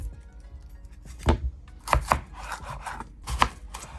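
A knife chopping an onion on a cutting board, a handful of sharp, uneven thuds close by, separated by short pauses, with no speech.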